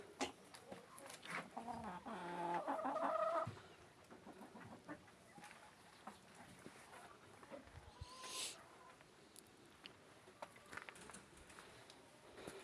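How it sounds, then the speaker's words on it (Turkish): Iranian chickens cluck and squawk in a brief burst near the start, then quieter scattered clucks follow amid faint background noise. "Hediye olarak İki tane İran tavuğu geldi."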